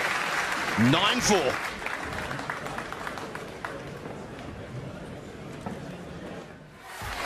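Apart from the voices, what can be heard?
crowd applause at a snooker match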